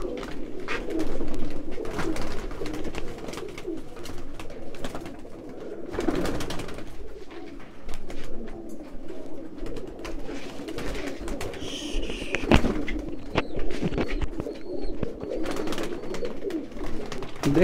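A large flock of Kasuri pigeons, newly brought from the border, coos in a low, continuous murmur with wing flaps and scattered clicks throughout, moderately close.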